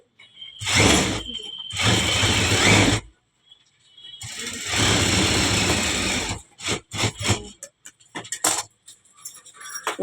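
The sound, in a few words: sewing machine stitching the edge of a silk cotton lining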